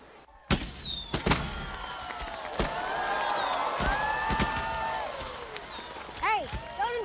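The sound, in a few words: fireworks at Cincinnati's 45th Riverfest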